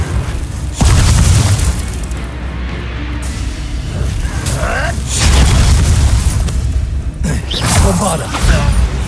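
The Confringo fire-blast spell explodes in Hogwarts Legacy with loud, deep booms, one early and more later with rumbling bursts and whooshes. Voices talk between and over the blasts.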